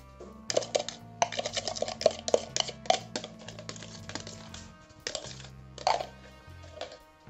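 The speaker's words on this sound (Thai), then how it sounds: "คนให้เข้ากันค่ะ" Spoon stirring water and yeast into a bread dough mixture in a bowl for hand-kneaded butter bread, rapid clinking taps of utensil against the bowl in quick bursts, fairly close, over a low steady hum.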